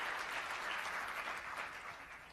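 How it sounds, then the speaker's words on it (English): Steady, dense applause from a large audience at a county State of the County address fills the room, holding at an even level before easing slightly toward the end, with no voices over it. "Clap if you're a county employee or director here this evening."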